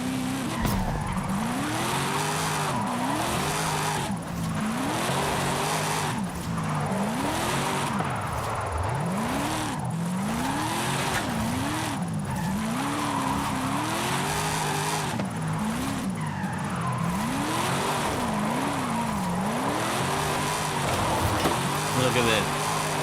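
Tires skid and squeal continuously as a Dodge Challenger drifts in fourth gear in Forza Horizon 5, with the engine revving up and down in repeated swells, close and loud, and someone talking over it.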